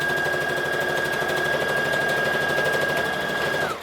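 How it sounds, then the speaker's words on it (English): A sewing machine back stitches a shoulder seam on a Butterick B5655 top, running as a steady, continuous mechanical hum with a fast needle rhythm and no pause until it slows at the very end. "So I'm going to back stitch"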